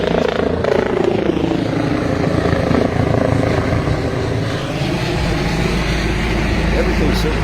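A helicopter passes over a bridge in Seattle, its loud, steady rotor thrum and engine drone filling the whole stretch close overhead while someone talks beneath it.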